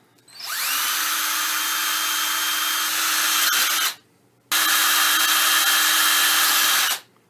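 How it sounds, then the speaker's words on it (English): A power drill whines at high speed in two long bursts, drilling holes through a Diatone Tyrant 215 drone part, briefly stopping in between, close and loud with no talking. "All I'm doing here is just drilling some holes through so that it matches up with the SMA connector"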